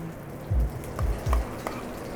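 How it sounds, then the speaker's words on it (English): Clarified butter sizzling and frying in a pan for croutons of day-old rye bread, a steady crackling hiss with a few low stirring thumps, close and alone. "we're going to start by putting the clarified butter in the pan first"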